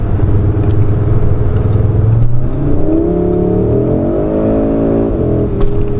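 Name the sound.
sports car engine and exhaust accelerating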